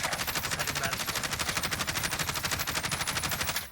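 A weapon fires in rapid full-auto bursts in Call of Duty Warzone, loud and close, a fast even rhythm of shots lasting several seconds.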